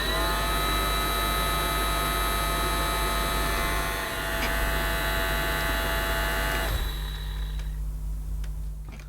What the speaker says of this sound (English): we haven't actually seen whether the airflow from the motor unit does cause those polystyrene balls to gyrate